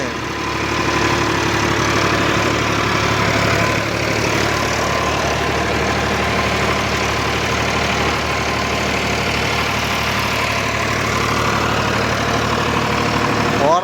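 A farm vehicle's engine runs steadily at idle for the whole stretch, a loud, continuous low mechanical drone with faint knocking texture and no pauses.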